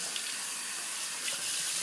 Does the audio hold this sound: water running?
yes